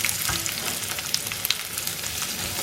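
Garlic and onion fry in hot oil in a pan, giving a dense, even hiss of sizzling with a few faint clicks, steady and close throughout and free of speech.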